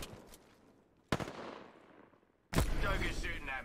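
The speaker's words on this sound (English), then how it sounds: "Doug is shooting at me" Video game gunfire as an enemy named Doug shoots at the player: three sharp broadband bursts, the last one loudest and followed by sustained crackling rattle, with quieter decaying tails between shots.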